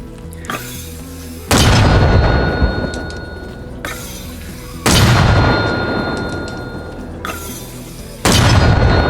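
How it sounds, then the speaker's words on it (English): Three heavy mortar launches in the video game Arma Reforger, each a loud booming blast at roughly three-second intervals with long rumbling decay tails, faint metallic clinks between shots. "Before I fire this mortar"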